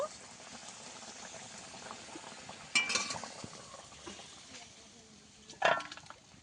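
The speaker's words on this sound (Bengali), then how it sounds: "আমগুলো ভালোভাবে সেদ্ধ হয়ে গেছে আর কিছুক্ষণ ফুটিয়ে নেব" A raw mango and fish roe chutney boils in a pot with a soft, steady bubbling, quiet and close. Two sharper clinks of a utensil against the pot break in partway through and near the end.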